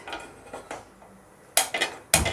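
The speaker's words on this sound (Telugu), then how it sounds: "ఇలా ఒక ప్యాన్ పెట్టుకొని" A pan is set down on a kitchen stove with a few metallic clanks and knocks, close and sharp, the last two strikes loudest.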